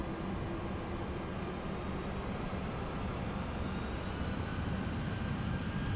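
MD-11 jet engines spooling up as the throttle advances in Microsoft Flight Simulator 2024, a steady, loud broadband roar with a low rumble that holds evenly throughout, with no talk.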